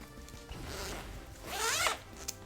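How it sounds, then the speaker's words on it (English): A jacket zipper is pulled open in two close, rasping sweeps, the second longer and louder, over quiet background game audio. "I was unzipping my jacket here. Probably heard a zipper sound."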